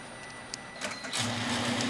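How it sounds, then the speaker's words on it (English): A wire pre-feed machine draws spark plug wire for reproduction automotive ignition leads, giving a steady mechanical whir with a few light clicks, then a louder, fuller hum as the motor picks up, close and continuous, with no speech. "Here is the wire pre-feed again at work."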